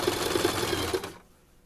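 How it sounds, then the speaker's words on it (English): A sewing machine stitches fabric in a steady, fast mechanical whir with a regular pulsing rhythm, close up, then stops abruptly after about a second. "we're always just lining that fabric up with the side of our presser foot"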